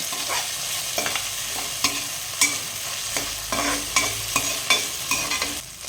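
Ginger garlic paste and tomato are stirred into a sizzling pan for a mushroom gravy; a spoon scrapes and taps in a quick, irregular rhythm over a soft, constant frying hiss, close by and without speech.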